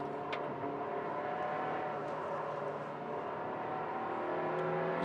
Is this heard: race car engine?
yes